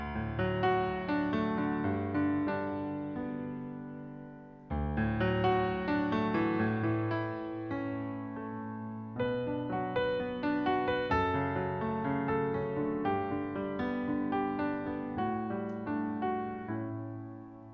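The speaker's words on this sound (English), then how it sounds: "The introduction sounds like this." Solo piano plays the introduction of a song, a busy run of chords and melody notes in three phrases, the second beginning after a brief break, clear and close with no talking.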